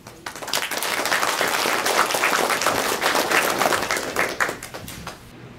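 Sustained applause from a seated audience at a community association ceremony, as a new chairman is invited to speak; dense steady clapping for about five seconds, then tapering off at the end.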